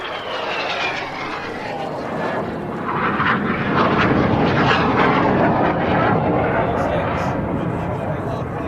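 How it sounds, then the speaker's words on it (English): Red Arrows jets flying opposing 360-degree turns at an airshow at Duxford, a steady distant jet roar with rising and falling engine tones as the aircraft sweep around overhead. "Red 1 now uses color smokes in opposing 360-degree 6G turns"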